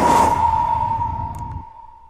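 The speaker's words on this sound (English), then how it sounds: "There's a crow warp sound that takes place. I'll just play the crow sounds" Designed crow sound effect with a warped treatment, a single sustained, steady tone that slowly fades over about two seconds over a dull low rumble that drops away near the end, heard alone.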